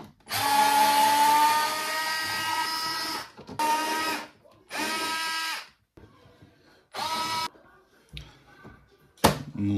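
A powered driver with a Torx T20 bit whirs in several bursts of varying length while screws are removed from a DeLonghi Prima ECAM 656.55 coffee machine casing, with quiet handling noise between bursts.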